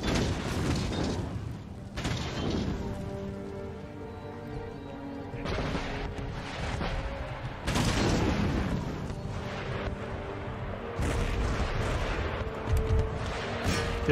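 Artillery guns in Empire Total War fire in a series of heavy, booming blasts several seconds apart, with rumbling, crackling battle noise filling the gaps.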